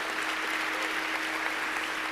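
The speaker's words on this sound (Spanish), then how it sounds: "A ver, démosle palmas fuertes al Señor" Church congregation at a Honduran evangelical service clapping loudly for the Lord, a dense, steady wash of applause filling the room without pause.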